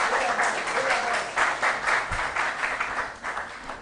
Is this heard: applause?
yes